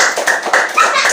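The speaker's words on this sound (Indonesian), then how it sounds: "tepuk tangan untuk kita" A classroom of students claps together after a movement game led by a teacher, a few quick rhythmic claps close by, with voices mixed in.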